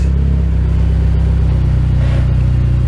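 A Mitsubishi Evo drives just after a clutch repair, its engine a steady, loud low rumble heard from close by, with a slight rise in pitch near the end and no talk over it.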